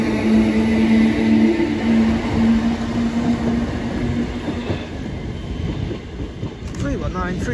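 A class 323 electric multiple unit, number 323239, pulls away from a Manchester station, its steady motor whine and rolling wheel noise carrying loud and close before easing as it departs, with a voice briefly heard over it.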